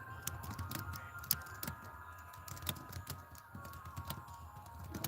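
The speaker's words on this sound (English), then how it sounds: "I'm typing thank you so much" Rapid typing on a computer keyboard, steady irregular key clicks with a few sharper taps, fairly faint over a low background hum, no voices.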